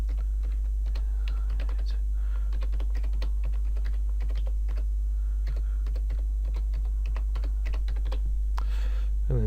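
Quick typing on a computer keyboard, a rapid run of crisp key clicks in uneven bursts over a constant low hum, with a brief pause near the end and no talk.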